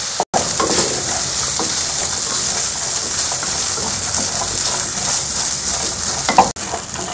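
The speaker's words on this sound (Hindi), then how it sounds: "फ्राई कर लेते हैं।" Cashews, almonds and raisins frying in a pan, a loud, dense, continuous sizzle that stays even and close, cut by one brief dropout near the start and another near the end.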